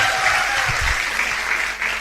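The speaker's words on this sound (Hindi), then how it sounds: "तो जोरदार तालियां दोस्तों" Audience applause from a direct selling business event crowd, a steady dense wash of many hands clapping loudly throughout, fading slightly at the end.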